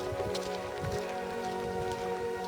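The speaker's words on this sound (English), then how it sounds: "It's still raining." Rain falls steadily on the Ridgeway trail in March, a continuous dense patter and hiss with no gaps, fairly close and even in level, with no voices.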